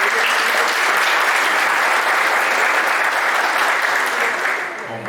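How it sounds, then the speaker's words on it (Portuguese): An audience at a finance training event applauds, loud sustained clapping from many hands that stays steady for several seconds before easing slightly at the end. "Salve de palmas, pessoal."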